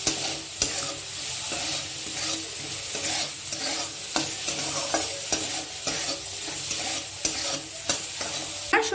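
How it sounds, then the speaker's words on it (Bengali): Vegetables for masala Maggi fry and are stirred in a pan, a steady close sizzle with regular scraping clicks of the spoon throughout, no voices. "সবজিগুলো ভাজা হয়ে গেছে"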